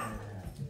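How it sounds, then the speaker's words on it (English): Dogs fighting with a short burst of growling and snarling, close and fairly loud, lasting under a second. "Dog's fighting."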